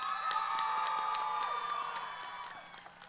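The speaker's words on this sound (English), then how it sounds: "Please give a round of applause for Luisa Custodio Lopes," Audience applause and cheering at a 2023 high school graduation ceremony, honoring an elementary school principal; a dense, steady wash of clapping with scattered shouts that stays loud before thinning out toward the end.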